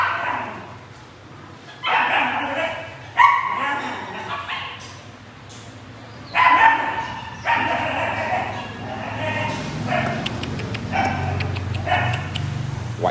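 A young Rottweiler or Malinois, about seven months old, barks and yips in sharp repeated bursts nearby, mixed with whimpers, while someone talks over it.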